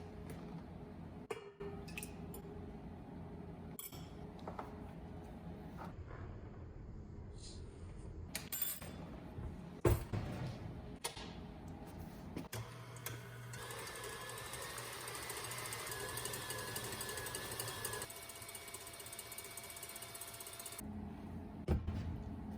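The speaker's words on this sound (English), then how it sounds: "We're going to beat the egg whites, the cream of tartar, and the salt until it's frothy" Egg whites beaten with cream of tartar and salt by an electric mixer, a steady whirring motor drone with occasional clinks and knocks against the bowl, continuing for several seconds without talk.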